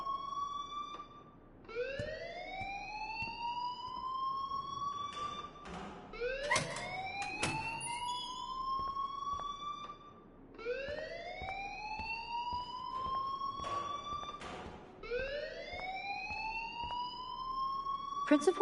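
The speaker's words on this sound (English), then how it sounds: "please turn off that alarm since that's your job" A school alarm in the video game Life is Strange rings in repeated rising, whooping siren-like sweeps, each cycle a few seconds long, steady and fairly loud with no talk over it.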